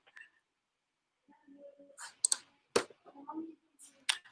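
A computer mouse clicks several times in quick, faint taps, with scattered soft clatter and low background noise in a quiet room.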